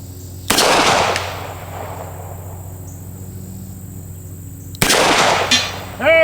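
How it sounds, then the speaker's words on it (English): Two sharp, loud gunshots from a Smith & Wesson 642 revolver, roughly four seconds apart, each cracking and then ringing out across a quiet outdoor range with a steady background hum. "I don't even know why I tell you I'm gonna shoot a certain number of rounds"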